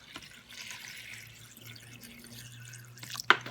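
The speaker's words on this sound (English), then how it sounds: "We're going to fill this up with some more water." Water trickles and drips into a container at a sink while making seamoss gel, with a low steady filling tone underneath and a sharper splash or clink near the end.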